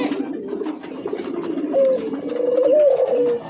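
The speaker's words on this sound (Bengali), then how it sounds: "অস্ট্রেলিয়ান ঘুঘু একদম। ডাক শুনবেন ভাই" An Australian dove held in the hand coos close up, a soft low rolling coo rising into a clearer sustained note near the end, with faint handling noise and no talk.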